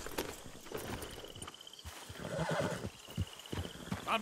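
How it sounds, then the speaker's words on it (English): A horse in the video game Red Dead Redemption 2 whinnies loudly, with hoofbeats clopping close by throughout and no talking. "I'm taking Micah's horse"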